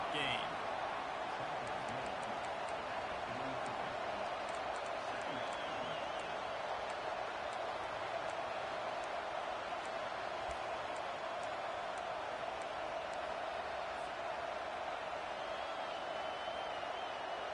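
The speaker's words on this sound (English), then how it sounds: "This crowd bringing the energy and noise early." Steady crowd roar from a football video game stadium, a continuous dense wash of cheering held at an even level throughout, with faint higher whistles or calls scattered across it.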